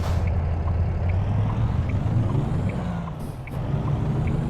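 International truck engine in American Truck Simulator, a steady low diesel drone with a faint repeating high tone ticking over it and a brief hiss near the end, loud and continuous without speech.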